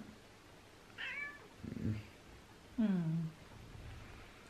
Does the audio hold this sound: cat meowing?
yes